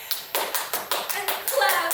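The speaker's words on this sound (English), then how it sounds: "And clap." A handful of sharp hand claps in a steady rhythm, about eight or nine in two seconds, close and fairly loud, the last ones blurring together with a faint ringing tone.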